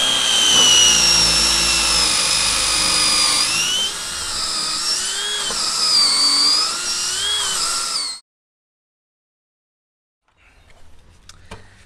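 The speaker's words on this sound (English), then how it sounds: "I won't make you sit through me drilling all those holes, so I'll put a bit of a clip in of me doing this" A power drill bores hole after hole into wood for a homemade bee hotel, loud and close with a steady whine that dips and rises as the bit bites, then stops abruptly before faint clattering.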